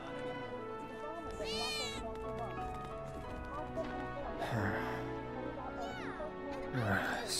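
Cat meows in the Final Fantasy VII Remake slum district, two drawn-out, rising mews heard apart from each other, set against busy game background sounds with hoofbeat-like clatter and a voice speaking.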